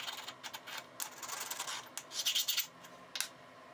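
Diamond sharpening stone rubbed over a cast metal surface to knock down high spots, a close series of dry, uneven scraping strokes with brief pauses, fairly quiet and without speech.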